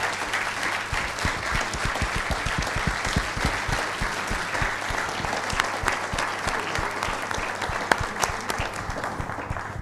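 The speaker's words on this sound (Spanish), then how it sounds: "les pido un aplauso para ellos" A crowd at a university software users' committee meeting claps steadily for the work team, a continuous round of applause holding at an even level from start to finish.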